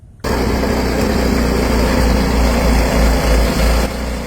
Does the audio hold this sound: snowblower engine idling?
yes